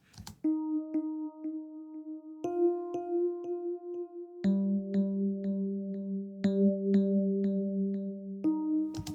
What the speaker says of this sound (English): It's the suitcase electric piano.